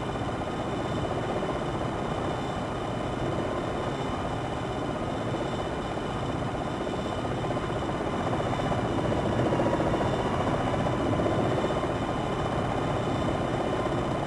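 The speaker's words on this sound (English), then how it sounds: "Pull the aircraft to a hover." Longbow Apache attack helicopter in Jane's Longbow 2 holding a hover, a steady, dense rotor and turbine roar that stays loud and unbroken throughout.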